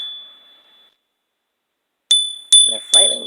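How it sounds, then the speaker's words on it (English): A small bell is struck three times in quick succession, each strike ringing bright and clear with a lingering tone. It follows the faint fading ring of an earlier strike, and some talk runs beneath the later rings. "Let me hit the bell."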